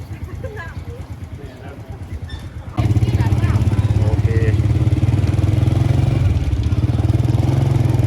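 A motorcycle engine runs at the Wang Tao border checkpoint in southern Laos in the rain, a steady mid-pitched drone that grows louder and fuller partway through, with rain noise around it and people talking nearby.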